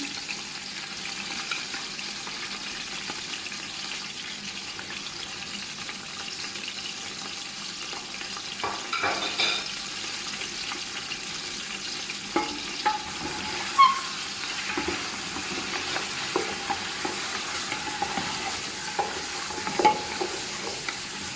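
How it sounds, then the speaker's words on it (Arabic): Lamb meat stir-fried in a pan: a soft, continuous sizzle that grows busier midway, with scattered scraping stirs and small utensil knocks, fairly quiet and close, no voices. "هنا راح نشوح لحد ما يتغير لون اللحم."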